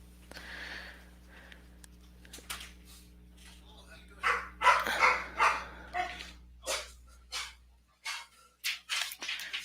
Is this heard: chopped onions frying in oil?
no